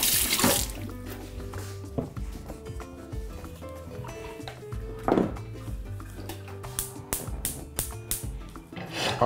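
Boiled water pours into a pot over pieces of trout, a steady splashing gush mixed with clinks and rubbing knocks of the pot, close and fairly quiet.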